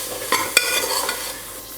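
Spices stirred into chickpea rice in a pan, a steady soft sizzling scrape with a couple of sharp utensil knocks against the pan, close and alone.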